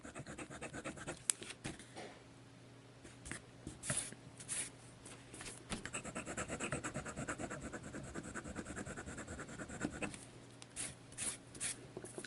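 A Montegrappa American Dream fountain pen with a smooth, wet-flowing nib scratches across Tomorrow River paper, close, quiet bursts of writing strokes in an uneven rhythm with short pauses between them.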